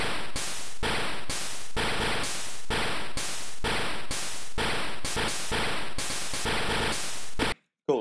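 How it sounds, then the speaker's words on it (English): A chiptune beat programmed on a tracker's noise channel: loud, regular bursts of harsh static-like percussion in a driving rhythm, with a faster stutter near the end before it cuts off. "we made a beat on the noise channel that sounds like this"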